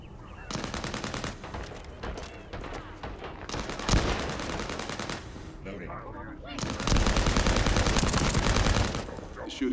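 Rapid automatic gunfire in the shooter game The First Descendant, loud sustained bursts of machine-gun fire broken by short pauses, with a long final volley near the end and a brief voice in a gap.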